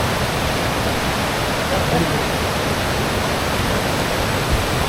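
Kadape Kondi waterfall in Raigad in heavy monsoon flow, a loud, dense, unbroken roar of rushing water filling the whole scene, with a voice heard speaking over it.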